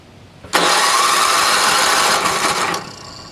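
A NOMA 8hp snowblower engine with its choke open catches abruptly and runs loud and steady for about two seconds, then drops off and sputters toward stalling, close by with no talk.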